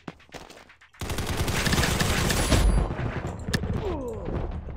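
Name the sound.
gunfire from a video game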